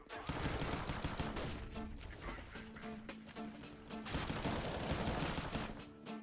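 A video game shootout with dense, rapid gunfire, including automatic bursts and scattered single shots, rattles on continuously and loudly in the foreground for about six seconds, with no clear talking over it.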